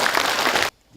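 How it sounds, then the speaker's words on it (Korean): A burst of crowd applause at an education forum in Bonghwa and Yeongju, South Korea, dense and loud, stops abruptly just before the end, leaving near silence. "박수 한번 쳐도 되겠죠?"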